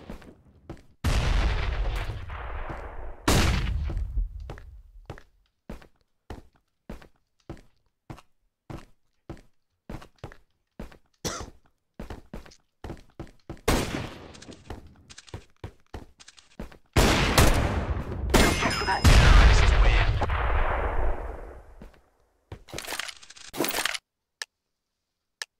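Gunfire in a multiplayer shooter: long bursts of loud blasts with decaying tails, mixed with many rapid, regular dry clicks and cracks, and heavy shooting clustered near the middle and end.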